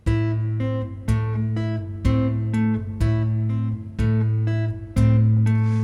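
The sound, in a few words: Chapman Stick two-hand independence exercise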